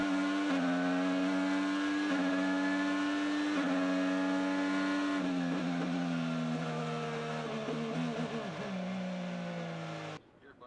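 Onboard IndyCar race car driven by Graham Rahal while overtaking on the Alabama circuit, a loud sustained high engine whine holding pitch with brief dips at gear shifts, then cutting off abruptly near the end.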